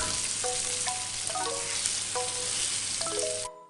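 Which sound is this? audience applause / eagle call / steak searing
steak searing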